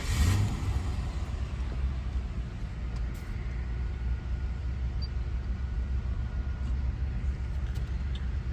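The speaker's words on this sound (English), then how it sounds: "now we're gonna start the Grand Marquis and see if we still feel it rough idle" A Mercury Grand Marquis car engine runs at a rough idle after an air filter replacement, a continuous low rumbling drone that stays steady and fairly close throughout, with a brief louder start at the beginning and no voices.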